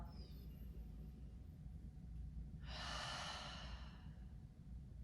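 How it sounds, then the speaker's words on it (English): A deep breath during a prenatal yoga session, a soft airy exhale lasting about a second and a half midway through, close and quiet over a low background hum, with no talking. "Take a big inhale and exhale."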